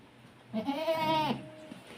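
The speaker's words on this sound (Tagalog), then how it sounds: "Yung kambing namin ba?" A single goat bleats once nearby, a loud wavering cry lasting under a second amid quiet surroundings.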